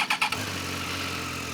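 A Triumph motorcycle engine cranks with a few quick bursts, then catches and settles into a steady, close idle.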